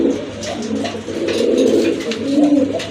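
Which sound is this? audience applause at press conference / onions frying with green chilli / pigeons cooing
pigeons cooing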